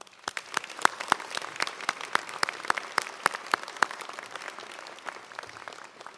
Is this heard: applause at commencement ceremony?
yes